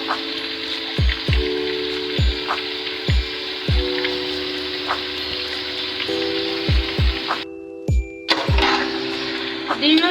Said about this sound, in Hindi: इसके अंदर मैंने 1 किलो गोश्त है बीफ का, इसको मैंने ऐड किया है और इसको मैं अच्छे से फ्राई कर रही हूँ।